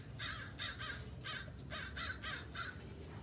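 A crow caws repeatedly at a steady rhythm, about eight harsh calls, heard from a moderate distance over outdoor background noise.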